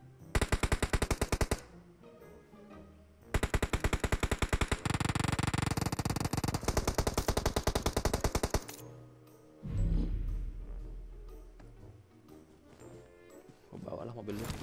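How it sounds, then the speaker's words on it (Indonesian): Rapid machine gun bursts in an online battle royale shooter game, loud dense volleys in several long stretches separated by short pauses, followed by a heavy thump and scattered quieter shots. "Masih ada tembakan di depan gua persis."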